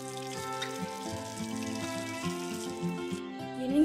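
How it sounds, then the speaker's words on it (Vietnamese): Kumquat leaves frying in hot oil filling about half a pan, a steady close crackle and sizzle running without pause under a faint hum. "Dầu đã nóng rồi mình cho cái lá tắc vô mình chiên."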